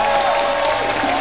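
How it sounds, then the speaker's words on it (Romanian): Studio audience on a Romanian television game show claps in a dense, steady burst of applause, loud and close, with no speech over it. "Încurajați-l puțin cu aplauze."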